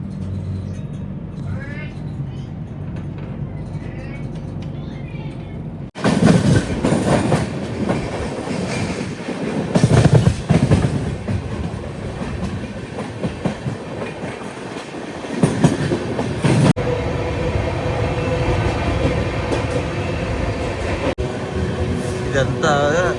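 The Telangana Express, a train of LHB coaches running from Secunderabad toward New Delhi, pulls away and rolls on with a steady rumble and a rhythmic clickety-clack of the wheels, heard from close by. Voices talk under the noise.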